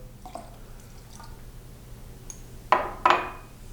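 Hydrosol mixed with tincture goes into liquid castile soap for a turmeric shampoo: a quiet stretch of faint drips, then two short, close splashy pours of liquid.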